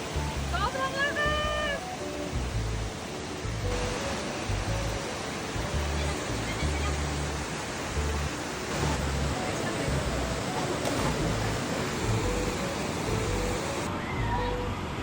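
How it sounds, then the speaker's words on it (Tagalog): Steady broadband rush of a waterfall fills the whole stretch, loud and continuous, with a brief tonal chirp near the start, at Tagkuriring Waterfalls in Puerto Princesa, Palawan. "Sa tunog pa nga lang ng agos ng tubig ay mapapawa ko na talaga."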